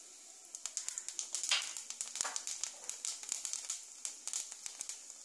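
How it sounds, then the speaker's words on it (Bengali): Nigella seeds temper in hot oil with quick, irregular crackles and pops over a faint hiss, close by and fairly quiet. "এবারে এই তেলে কালো জিরে ফোড়ন দিয়ে দিচ্ছি"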